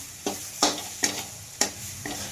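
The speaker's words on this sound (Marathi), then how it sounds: "मिश्रण परतून घ्यायचं." Green chilies and garlic cloves sautéing in oil in a pan, with a steady sizzle broken by four or five sharp scrapes of stirring at a fairly regular rhythm, close and clear.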